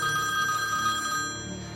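Telephone ringing in a steady electronic bell tone, continuous and moderately loud, fading slightly toward the end with no voices.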